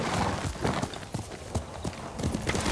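A horse gallops in the video game Ghost of Tsushima: rapid, loud hoofbeats in an uneven rhythm, with several clear thuds, over constant hiss and no speech.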